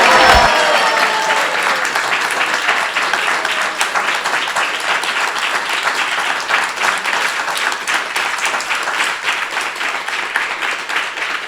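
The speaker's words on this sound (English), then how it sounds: "Let's express loudly clapping." An audience at a spiritual talk breaks into loud, sustained applause, dense clapping that holds for over ten seconds and eases only slightly toward the end.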